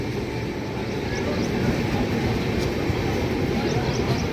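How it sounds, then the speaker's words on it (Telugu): The Bengaluru–Hubli Jan Shatabdi Express rumbles past as a loud, continuous rolling roar of wheels and carriages close by, steady for the whole stretch with faint higher squeals. "Jan Shatabdi express KSR Bengaluru city junction నుంచి ట్రిపుల్ ఎస్ హుబ్లీ జంక్షన్కి వెళ్తుంది"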